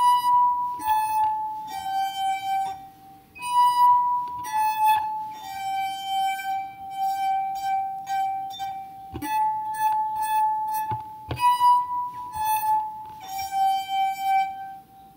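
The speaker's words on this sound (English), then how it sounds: "Maybe you're having trouble playing the wine glass with your finger." Wine glasses ring as a wet finger rubs their rims, sustained pure tones shifting between a few pitches in a simple tune like Hot Cross Buns, with soft taps and squeaks between notes.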